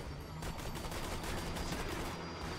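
Dense, continuous gunfire in the first-person shooter video game Borderlands 2, a steady wall of rapid shots and bursts with no talking over it.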